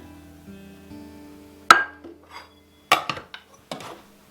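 Ingredients dropped into a small mixing bowl in a homestead kitchen, giving a few sharp ceramic clinks and knocks spaced out over a few seconds, close and fairly quiet, with no talking.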